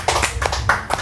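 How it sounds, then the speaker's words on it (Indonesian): A small audience at a casual chat session claps hands in a brief burst of scattered, fairly close claps lasting about a second. "tepuk tangan dong"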